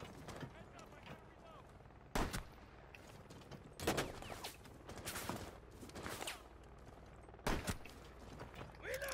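Magnum pistol shots in the tactical shooter Rainbow Six Siege, a handful of sharp loud cracks spaced a second or two apart amid busy game noise, with players talking over the action.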